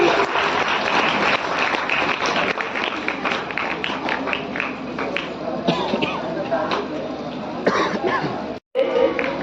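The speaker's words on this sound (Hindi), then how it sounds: "एक बार जोरदार तालियां हो जाए बच्चे के लिए" An audience at a children's program in Sarai Akil, Kaushambi, applauds for a child, the clapping steady and dense with coughs and scattered voices mixed in, continuing nearly throughout before a brief gap near the end.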